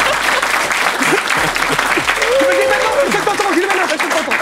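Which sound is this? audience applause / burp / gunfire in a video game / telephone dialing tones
audience applause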